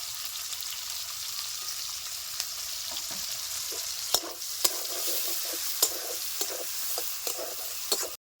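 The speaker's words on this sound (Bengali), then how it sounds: "পেঁয়াজটা ভাজা ভাজা হয়ে আসছে" Chopped onion and green chilli fry in a pan, a steady broadband sizzle throughout with occasional sharp pops and spatters and light stirring clicks, fairly quiet and close, with no voices.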